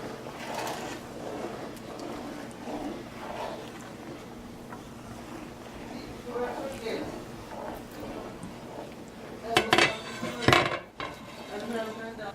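Metal utensils scrape and clink against a pot as boiling pineapple coconut rice pudding is stirred, with a person talking throughout and a few louder knocks near the end.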